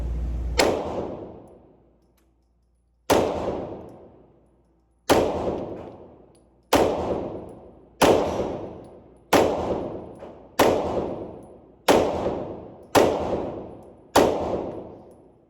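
A 2011 Commander-style 9mm pistol fires at an outdoor range, about nine loud, sharp shots, each ringing out and decaying before the next. A long pause follows the first shot, then the shots come at a steady, fairly quick pace.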